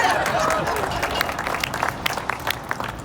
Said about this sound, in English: Keep on clapping for Alex.